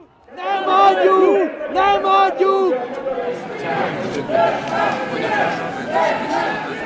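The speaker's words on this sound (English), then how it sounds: "But in the crowd, mixed with the chants of his own supporters, were the chants of the opposition." A large crowd at a Hungarian political rally chants, with rival groups of Fidesz supporters and opposition protesters rising and overlapping in rhythmic shouted bursts, loud and close, with a general roar beneath.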